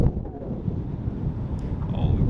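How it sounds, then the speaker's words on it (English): Strong wind buffets the microphone in low, uneven gusts, a dull rumbling roar with no voices. "it's windy."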